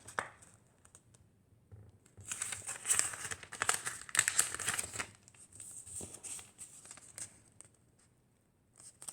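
Paper crinkles and rustles close by as it is folded for an origami leaf, a burst of creasing and handling in the middle with quieter scraping before and after.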